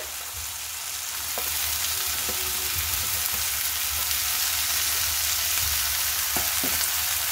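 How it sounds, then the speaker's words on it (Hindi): Boiled radish leaves fry in a pan with chilies, a steady broadband sizzle that swells after the first second and holds loud and close, with a few soft stirring scrapes and no talk. "अब हम बॉईल किए हुए मूली के पत्ते को डाल देंगे।"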